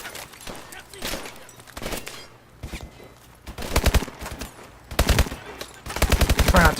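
Automatic rifle fire in Advanced Warfare's campaign: rapid, loud machine-gun bursts repeat in several volleys, with short gaps and mixed with other battle noise and voices.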